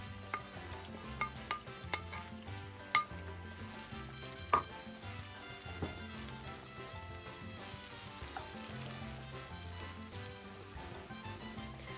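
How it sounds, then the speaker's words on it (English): Vegetables for a sofrito fry in a pan while cooking Cuban chicken tamales, a steady close sizzle with scattered pops and a few sharp stirring clicks throughout, no talking. "now I'm gonna start frying up my my vegetables so I can make my sofrito."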